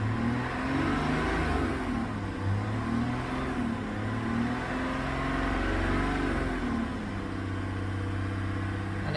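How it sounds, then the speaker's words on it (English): A parked GMC Yukon's engine is revved steadily while connected to jump-start a GMC Sierra, a close, continuous mid-pitched drone rising and easing as the throttle is held. "you can rev the engine to 2 to 3 RPMs to help the charging process along"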